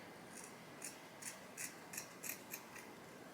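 Scissors snip through lace wig hair in a run of about eight crisp, evenly spaced cuts, close and clear against a quiet background.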